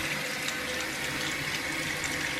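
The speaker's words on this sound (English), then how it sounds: "So I'm going to now turn the water back on and get this flushed again." A toilet refills after its water supply is turned back on: a steady, even rush of running water, close and continuous, with no talk over it.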